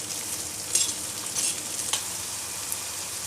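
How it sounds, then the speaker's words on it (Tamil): Green tamarind (chinthakaya) sautés in a kadai with a soft, steady sizzle, punctuated by a few light scrapes and clinks of a stirring spoon, close and fairly quiet with no talking. "அஞ்சு நிமிஷம் வரைக்கும் நல்லா வதக்கிக்கணும்."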